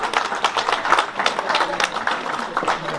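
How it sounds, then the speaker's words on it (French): An audience claps at a tenth-anniversary celebration of a solidarity association, steady applause from many hands filling the whole stretch, fairly loud and close. "On peut applaudir pour elle."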